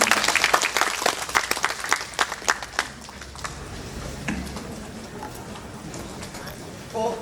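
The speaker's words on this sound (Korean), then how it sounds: "여러분 다시 한번 큰 박수 보내주시면 고맙습니다." Audience applause at a Suncheon city public town-hall talk, a burst of claps in the first few seconds that thins out into a quiet room murmur with faint talking.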